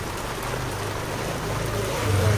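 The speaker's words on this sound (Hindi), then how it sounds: "बारिश हो रहा है ना देख रहे हो" Rain falls in a village, a steady broadband patter and wash heard close, growing slightly louder toward the end, with no voices.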